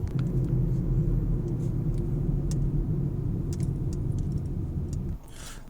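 From inside a car being driven, a steady low engine and road rumble runs for several seconds with faint rattles, then drops noticeably quieter just before the end.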